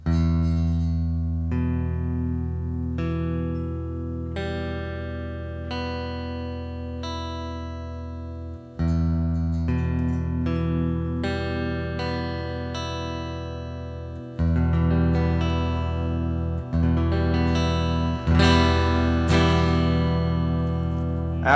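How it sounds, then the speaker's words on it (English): A six-string acoustic guitar chord is picked one string at a time from the low sixth string upward, each note ringing into the next over a long, even stretch, several passes of plucked notes with no voice. "let's hit it down one string at a time"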